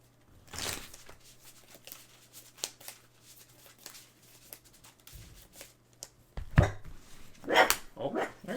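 A dog barks indoors in a few short, sharp outbursts, one early and a louder pair near the end, while a person talks quietly in between.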